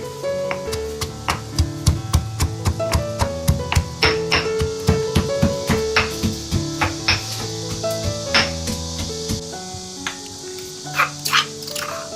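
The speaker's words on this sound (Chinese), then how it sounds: "剥好的蒜瓣，咱给它加点盐，这样它好搓，不给它捣成蒜泥。" Peeled garlic cloves are crushed with salt, making a rapid series of sharp, repeated pounding knocks, close and fairly loud, with a steady rhythm and no talking.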